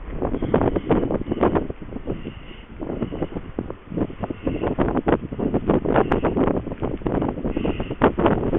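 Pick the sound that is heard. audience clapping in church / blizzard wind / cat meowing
blizzard wind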